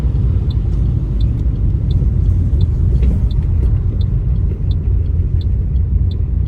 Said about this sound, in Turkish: Şu an jantın üstünde gidiyorum yemin ederim.